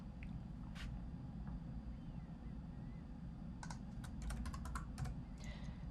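A short flurry of computer keyboard keystrokes types a single word, faint and quick clicks over a steady low background hum, with one isolated click earlier and no talking.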